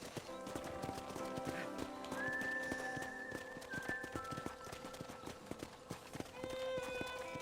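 Horse hooves clip-clopping at a slow walk in the Western video game Red Dead Redemption, a steady rhythm of soft knocks that goes on under music with a whistled melody, quiet and fairly close.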